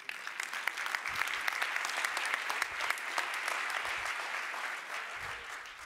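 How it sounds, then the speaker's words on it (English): A crowd at a gospel service claps to welcome back an evangelist, a sustained, dense burst of applause with distinct sharp hand claps standing out, heard on its own without speech. "Won't you welcome back Evangelist Jonathan as he comes?"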